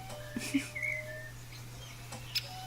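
In The Book of Unwritten Tales video game, a fat bird chirps in a few short, faint tweets and whistles scattered over a steady low hum, with soft vocal sounds around them.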